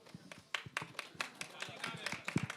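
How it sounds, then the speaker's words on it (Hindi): Audience clapping at a Bollywood film trailer launch, sparse, uneven handclaps with distinct sharp strikes rather than a full wash of applause, close by, while people talk over them. "तालियां बजते रहनी चाहिए जब तक स्टेज पे आती हैं"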